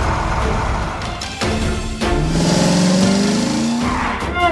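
A cartoon shark car racing at full speed through city streets in a chase, roaring engine and squealing tires with rising pitch sweeps, loud and continuous.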